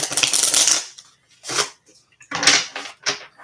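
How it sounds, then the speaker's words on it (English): Tarot cards being cut and riffled in bursts: one long shuffle followed by several shorter snaps and flutters, close and crisp, with brief pauses between and no voice. "I'm going to give this one more cut, and then I'm going to start my shuffle, Grace."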